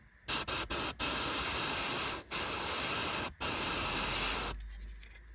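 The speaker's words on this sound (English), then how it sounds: "I'm going to airbrush from top down so I can keep a little bit of shade in there." An airbrush sprays paint onto a scale model, including its rear radiator grills, for a winter whitewash: close, steady hissing bursts, several short ones, then longer passes broken by brief pauses, fading out at the end.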